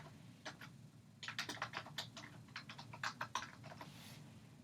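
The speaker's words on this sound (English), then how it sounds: "I'm going to go ahead and type the address." An address is typed on a computer keyboard in quick, uneven bursts of close, light key clicks that speed up in the middle, with no talking.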